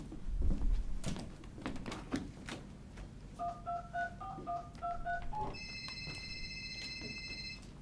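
A telephone is dialled by hand, its keypad sending a quick run of paired DTMF tones followed by a steady ringback-style tone, with a few clicks and soft knocks nearby and no talking.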